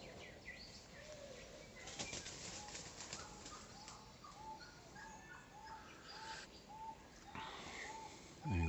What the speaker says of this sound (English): we've got the birds right just above our head